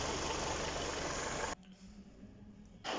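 A Kia Cerato engine idles smoothly after a repair of a knocking noise traced to the alternator. It gives a steady, even hum that drops abruptly to a quieter level midway and then swells back at the end.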